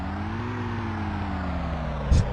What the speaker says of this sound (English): For some reason, the engine sound is running.